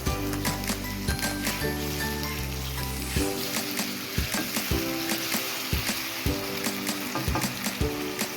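Grated tomatoes fry in a pan with a steady, close sizzle, while occasional stirring clinks and scrapes sound over it; nobody speaks.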